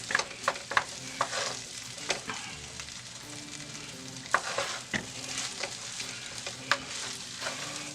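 Chicken fried rice cooking in a pan, a constant sizzle broken by repeated sharp scraping and stirring clacks from a utensil at an uneven rhythm.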